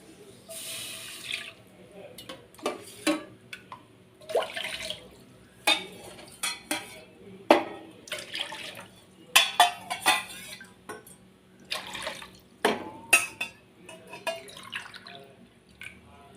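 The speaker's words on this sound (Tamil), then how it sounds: "மூணுக்கு நாலரை டம்ளர் தண்ணி விட்றேன்" Water is poured from a tumbler into a metal pot, splashing and trickling in uneven bursts, with clinks of utensils and vessels around it, close by.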